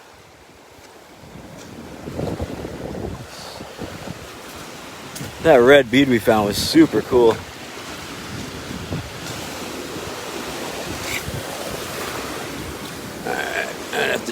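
Ocean waves wash steadily onto the shore in Curacao, with a low rolling surf and wind buffeting the microphone, while a person talks over the water.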